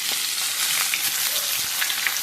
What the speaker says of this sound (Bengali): পেঁয়াজটা একটু লাল লাল করে ভেজে নিয়ে